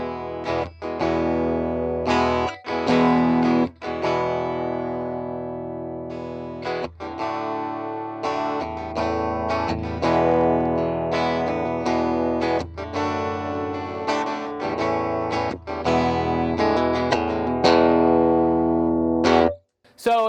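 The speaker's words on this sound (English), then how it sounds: "It gives you an amplified sound of your electric guitar" Electric guitar played through a PV reactor pedal into a small Kona KA10 practice amp with bass fully up and treble centered, loud sustained distorted chords and notes strummed continuously with brief gaps, no talking.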